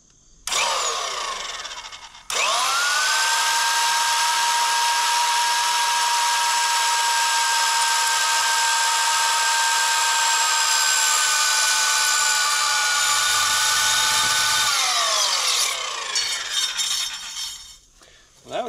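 A power drill bores a hole into a house wall, its motor whining at a steady high pitch for about thirteen seconds before winding down, with a short burst of drilling near the start.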